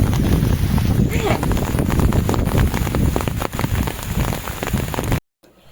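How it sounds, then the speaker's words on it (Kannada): Heavy rain pours down hard in a loud, continuous roar, with wind buffeting the microphone and a voice speaking under it before it cuts off. "ಸಿಕ್ಕಾಪಟ್ಟೆ ಮಳೆ"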